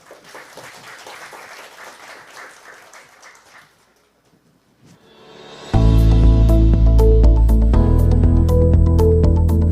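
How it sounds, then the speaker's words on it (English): An audience applauds a speaker at a science camp event: moderate clapping that fades to near silence, then a loud burst of music or amplified sound takes over. "Please give him a big round of applause."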